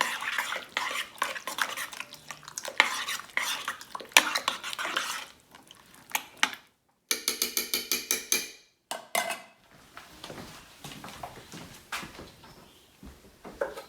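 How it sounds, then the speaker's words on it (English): A spoon stirs chili in a crock-pot, scraping and clinking against the pot in a steady run of close, fairly loud strokes, broken by brief pauses and a few lighter taps near the end. "I'm gonna give this a quick stir"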